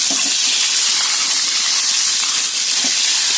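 Eggplant pieces soaked in water tipped all at once into a little oil in a pan, giving a steady, loud, close sizzle and hiss that holds throughout with no talk.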